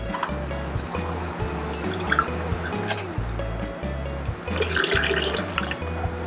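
Cocktail strained into a glass in a home bar, a soft trickle and drip of liquid with a brief splashy pour near the end, quiet and close with a low hum underneath.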